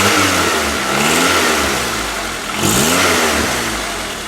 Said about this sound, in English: I can hear it coming out of this area by the exhaust, especially when I rev the engine